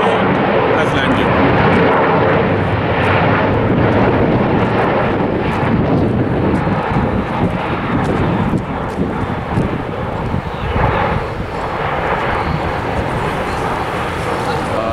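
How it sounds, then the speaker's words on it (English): A jet airplane on an internal flight lands at Paro airport in Bhutan, giving a steady, loud broadband engine roar mixed with heavy wind buffeting on the microphone and faint indistinct voices. "And see the plane has landed."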